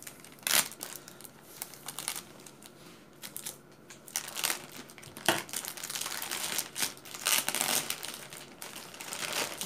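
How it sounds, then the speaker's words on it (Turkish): A cargo package being cut open with scissors indoors, with repeated crinkling and crumpling of plastic or paper packaging in bursts and sharp snips, fairly close and moderately loud, with no talking. "Bu makasla açacağım."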